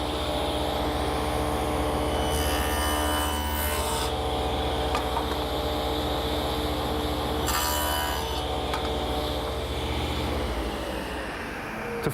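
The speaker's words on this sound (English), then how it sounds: "I'm going to use the table saw, which is set up with a gauge block, set the right distance from the blade to make the shoulder cut" Steady, loud table saw whine runs through the whole stretch as blade set 3/16 inch high cuts tenon shoulders in wood against a gauge block, with two brighter bursts of rasping cut noise partway through.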